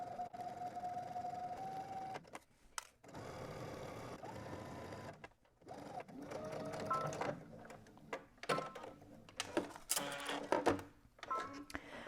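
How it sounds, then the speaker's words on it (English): A sewing machine stitches a 5/8-inch seam in uneven stretches, a quiet mechanical whir with clicks and brief stops between runs of stitching. "go ahead to your sewing machine and we're going to stitch using 5/8 of an inch seam"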